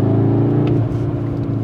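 A 2021 CUPRA León Sportstourer with the 310 hp 2.0 TSI engine in Cupra drive mode gives a steady, loud, deep hum with an artificial tone, heard up close and without speech.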